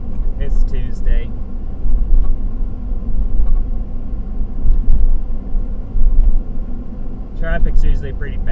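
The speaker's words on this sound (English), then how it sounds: "since I fixed the misfire in the engine, I have quite a bit more power" A car engine and road rumble while driving, recently repaired after a misfire, a steady low drone with brief faint higher sounds near the start and end.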